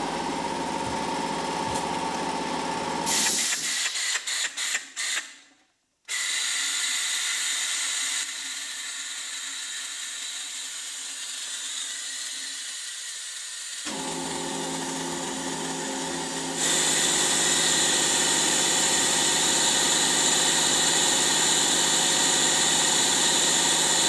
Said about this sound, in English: switch to a vacuum sucker that I used when I was a mechanic